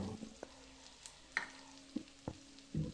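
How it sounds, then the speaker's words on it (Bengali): Potato, onion, tomato and ground turmeric, chili, cumin and coriander frying in oil, a quiet steady sizzle punctuated by a few sharp stirring clinks and scrapes of the spatula. "এবার এগুলোকেও তেলের মধ্যে আলু পেঁয়াজের সাথে ভেজে নেবো"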